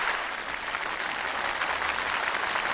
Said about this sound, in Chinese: 我们也再次掌声谢谢二位今天能够来到我们的节目当中